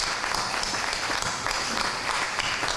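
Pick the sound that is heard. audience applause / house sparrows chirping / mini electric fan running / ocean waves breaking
audience applause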